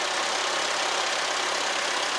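A Farmall Cub tractor engine running steadily with its generator charging, a continuous, even broadband hum at moderate level throughout, with no talking.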